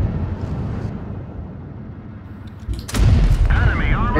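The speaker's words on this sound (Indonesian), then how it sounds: "tembakan pertama kita guys" A quiet rumbling backdrop breaks into a loud, heavy tank cannon blast in World of Tanks Blitz, with a booming tail, followed by a brief rising whine.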